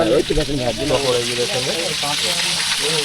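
Bombay duck fish coated in gram flour batter fries in hot oil at a Bakkhali eatery, a steady hiss and sizzle running beneath close conversation.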